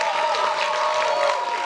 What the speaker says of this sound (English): Clap for our coaches.